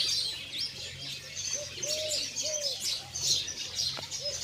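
Pigeons nesting with eggs and chicks in boxes give low, soft coos among scattered chirps and a few wing flaps from nearby birds, under a steady background hum.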